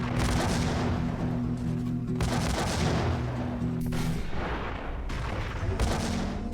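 Gunfire and grenade-launcher blasts from the Max Payne video game, a continuous wash of shots and booming explosions with a low steady hum beneath, loud and dense throughout.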